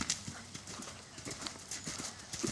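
Horse hooves clip-clop at a steady canter across a riding arena, a close, continuous rhythmic beat of footfalls lasting the whole stretch with no talk over it.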